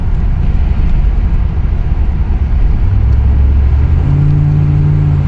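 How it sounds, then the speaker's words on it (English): A car with T-tops, fitted with a Hypertech performance chip, accelerates with a steady low engine rumble that rises into clearer rising tones near the end, heard from inside the cabin with no talking. "the acceleration is pretty good."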